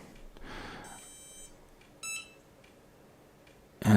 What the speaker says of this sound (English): So I heard some beeping.